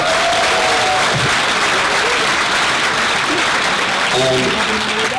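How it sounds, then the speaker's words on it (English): Audience at an anime and hip-hop panel at Anime NYC 2017 gives sustained applause for the panelists, a steady dense clapping across the room with faint voices and cheers mixed in. "can you give a round of applause for our amazing panelists?"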